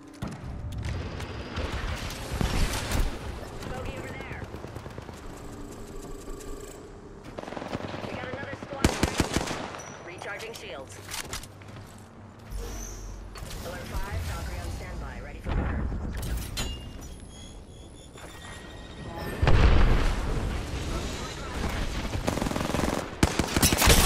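Rapid bursts of automatic gunfire and a grenade blast from the Apex Legends battle royale shooter, loud and repeated through a chaotic firefight with voice lines spoken over the action.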